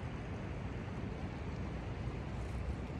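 Small brook flowing outdoors on a spring hike, a steady broadband rush of running water with no pauses, fairly close and continuous throughout, with some wind mixed in.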